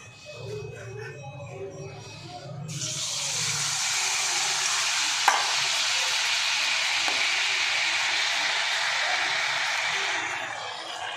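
Jaggery pitha batter dropped into hot oil sets off a sudden loud, steady hiss of frying after a quieter opening with a voice talking, continuing evenly to the end.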